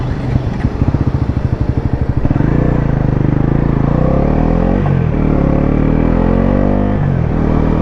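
A Bajaj Pulsar NS400Z motorcycle pulls away, its engine rising from a pulsing idle into a loud, steady drone with a few shifts and dips as it rides on, close to the listener.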